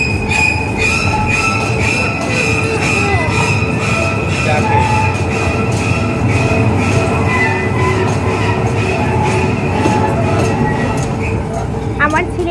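Children's amusement park ride train rumbles and clatters along its track with wheel squeal, a steady close mechanical roar with faint voices mixed in.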